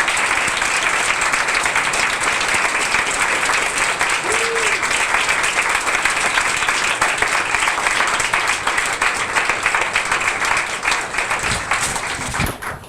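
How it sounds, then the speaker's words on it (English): Sustained, loud applause from an audience standing to honor police officers at a National Night Out kick-off ceremony, dense clapping filling the whole stretch before tapering slightly at the end. "please stand and let's give them a great round of applause."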